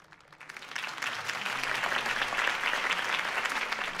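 Steady crowd applause from the video game Batman: The Telltale Series, Episode 1, swells quickly and holds, a dense wash of many hands clapping at moderate volume with no talking.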